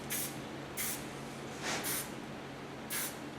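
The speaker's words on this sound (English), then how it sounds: "Hairspray I use from Goldwell." Goldwell hairspray sprayed onto hair in a salon, four short, crisp hissing bursts at a fairly even rhythm, close and moderately loud with quiet gaps between.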